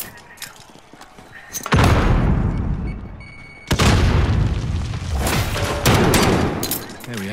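Semtex grenade blasts and gunfire in Call of Duty: Modern Warfare Warzone, with two loud booming explosions a couple of seconds apart followed by sustained rumbling combat noise and scattered shots.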